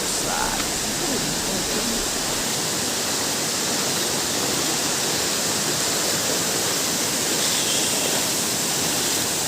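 Tumpak Sewu waterfall in Lumajang, Indonesia roars as a steady, dense wash of falling water, loud and unbroken throughout with no voices over it.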